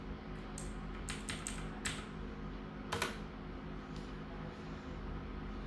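Keys clack in short bursts on a computer keyboard while someone types Python code, a quick run of taps followed by a sharper cluster and a few scattered strokes over a steady low hum.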